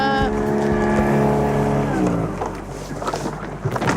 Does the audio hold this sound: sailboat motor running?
yes